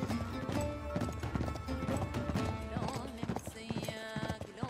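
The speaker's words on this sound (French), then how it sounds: "bah, le cheval il regalope tout seul." Rhythmic hoofbeats of a galloping horse in Uncharted 3: Drake's Deception on PS4, steady and fairly loud, mixed with music and game sound effects, with a brief neigh.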